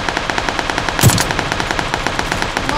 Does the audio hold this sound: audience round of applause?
no